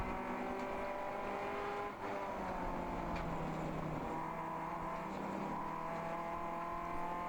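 Race car engines at a ChampCar endurance race at Gingerman Raceway, a steady droning engine hum with shifting tones from cars in the paddock, fairly faint and continuous, with no speech.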